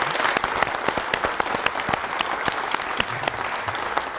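Audience applause for a man at a quiz show for top school pupils, a steady wash of clapping hands with sharp individual claps standing out, loud and close throughout with no voices.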